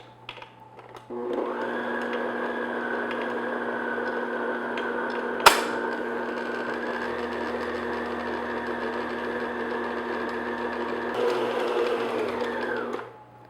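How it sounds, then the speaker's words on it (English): Electric stand mixer running at low speed through a heavy flour dough for shortbread, a steady loud whirring hum held for about eleven seconds with one sharp click midway, then winding down. "So start your mixer on low speed, because that's a lot of flour."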